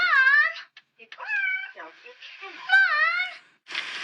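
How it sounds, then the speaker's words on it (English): A domestic cat meows loudly and close by, giving several drawn-out, wavering meows in a row with brief pauses between them, followed by a short noisy rustle. "It was the cat."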